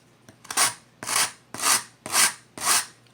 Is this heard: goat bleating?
no